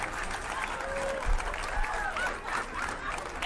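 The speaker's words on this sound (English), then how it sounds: "They're probably clapping because they're happy he's been convicted." An audience claps in a video clip played back at a conviction, a brief burst of dense applause with muffled crowd murmur and a voice talking over it.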